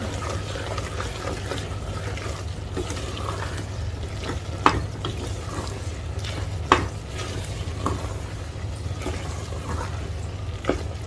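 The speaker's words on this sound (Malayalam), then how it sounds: "ഇതിലേക്ക് ഞാൻ പൊടികളെല്ലാം കൂടെ ഇട്ട് കൊടുക്കുകയാണ്. എല്ലാം കൂടി ഇളക്കി യോജിപ്പിച്ച് കൊടുക്കുകയാണ്." Spice powders being stirred into Kerala-style butter sambar in a pan, a steady soft simmering sizzle with occasional spoon scrapes and clinks against the pan, close and continuous.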